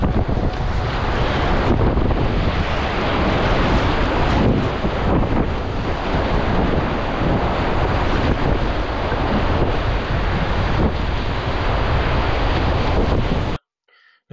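Continuous rushing roar of river surf waves while kayaking a rocky rapid on the Shenandoah, loud and unbroken, with wind buffeting the microphone, ending abruptly in silence.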